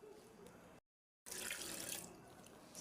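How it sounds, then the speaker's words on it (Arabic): A glass of water is poured into a blender jar holding cantaloupe and orange for fresh juice, a quiet splashing stream that briefly stops before resuming more fully. "غنزيد كاس ديال الماء"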